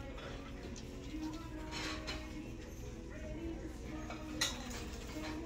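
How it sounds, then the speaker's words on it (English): Small plain white dishes are handled on a shelf at a Goodwill thrift store in Las Vegas, giving faint scattered clinks and light ceramic taps within a busy store background. "Oh, just plain old little white dishes."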